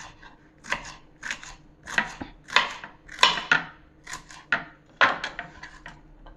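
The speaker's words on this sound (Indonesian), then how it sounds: "Ini diiris tipis banget itu ya." A knife thinly slices winged beans on a cutting board, about a dozen crisp, fairly regular close chops with soft board knocks between them.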